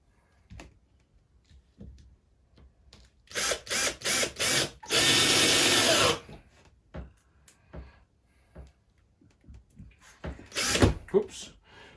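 A power drill drives screws into a baseboard, giving several short bursts and then a longer continuous whir, followed later by another brief burst, close and loud with scattered handling noises around it.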